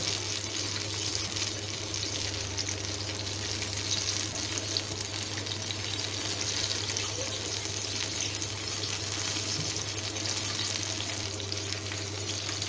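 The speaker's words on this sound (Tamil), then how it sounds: "நம்ம ஆனியன் பஜ்ஜி ரெடியாயிட்டிருக்கு, வெந்துகிட்ருக்கு." Onion bajji frying in hot oil, a dense, even sizzle that holds steady and close throughout, with a low steady hum underneath and no talking.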